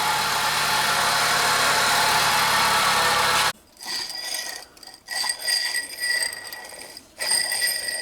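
A Ford Focus car engine runs steadily at a loud idle, then cuts out and restarts, settling into an uneven idle with a rising whine.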